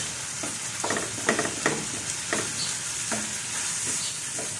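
Chicken sizzling and frying in butter in a pan for a spicy chicken pastil, with a steady frying hiss broken by several bursts of stirring and spatula scraping, close up and with no voices.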